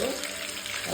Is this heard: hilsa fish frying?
yes